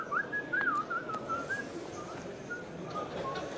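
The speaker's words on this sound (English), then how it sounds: "entertaining us with some whistling" A player at a televised poker final table whistles a wandering tune, clear but fairly quiet, with soft room ambience and no talk.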